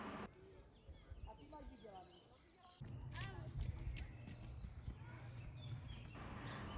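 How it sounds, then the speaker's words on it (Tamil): Horse at the Brno zoo, with hoof clip-clops and thumps standing out against an outdoor background of birdsong and a steady low rumble, fairly faint and mixed into the surroundings. "இது குதிரை."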